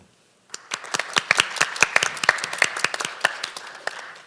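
A smaller conference audience applauds after a former Constitutional Court of Korea justice is introduced, with sparse distinct claps that start after a brief silence and build into a steady patter.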